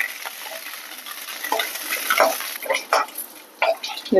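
Eggplant pieces stir-fried in a pan, with close, irregular scraping and stirring strokes and a faint sizzle throughout, growing louder in short bursts toward the end.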